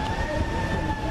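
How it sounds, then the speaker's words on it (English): Emergency vehicle sirens wail from a seaside pier, a steady tonal whine held over low traffic rumble, moderately distant and continuous with no voices. "More sirens coming."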